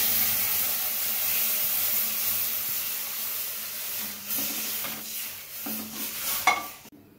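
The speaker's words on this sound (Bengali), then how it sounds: "এবার ওই ঘিয়ের কড়াইতেই আমি দুধ দিয়ে দিচ্ছি।" Milk poured into a hot kadai coated with ghee after frying nuts, giving a broad sizzling hiss that slowly fades, then several clinks and scrapes as it is stirred near the end.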